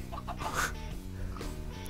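Short, clucking Minecraft chicken calls in a couple of quick bursts over a steady low background hum, close and moderately loud.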